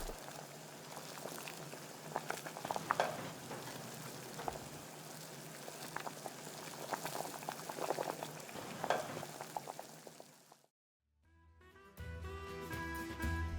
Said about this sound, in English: continue boiling for about 3 or 4 minutes, depending on the thickness of the wrappers